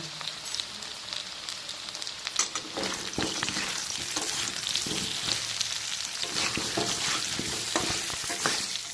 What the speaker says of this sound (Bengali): আলুগুলো ভাজা হচ্ছে, এই সময় আমি একটু নুন দিয়ে নেড়ে চেড়ে নামিয়ে নেব